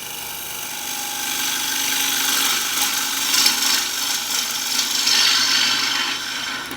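A woodturning gouge cuts wood spinning on a lathe, giving a continuous bright hissing scrape that swells and eases slightly as the bevel rides the surface.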